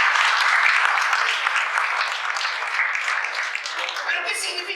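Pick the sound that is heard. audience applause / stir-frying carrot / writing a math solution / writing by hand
audience applause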